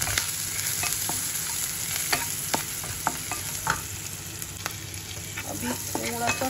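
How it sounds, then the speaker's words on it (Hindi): Onion frying with turmeric and salt gives a close, steady sizzle, punctuated by repeated clicks and scrapes of a spoon stirring in the pan. "अभी थोड़ा सा प्याज भून गया है"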